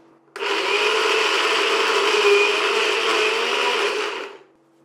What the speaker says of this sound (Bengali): আজকে বেসিক্যালি বাদামটাকে একটু বেশি করে আমাদেরকে বেটে নিতে হবে।